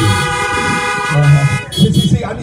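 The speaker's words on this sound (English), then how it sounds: "I need some sisters to honk your horns for this woman who made it up in her mind." Several car horns honking together at a drive-in church service, sustained overlapping tones continuing for the whole stretch, with a voice speaking over them.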